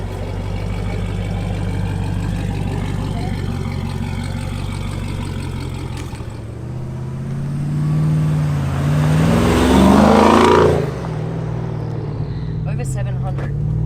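An Aznom Palladium hyper SUV's bi-turbo V8 rumbles low and steady, then surges as it accelerates, with a rising roar swelling near the middle before easing off, heard from inside the cabin.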